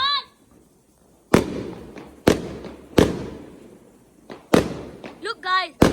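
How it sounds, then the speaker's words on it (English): Bonfire night fireworks going off outdoors: a run of sharp, loud bangs spaced a second or so apart, each trailing into crackle, with excited voices and shouting between the blasts. "Look guys, a bunch of fireworks!"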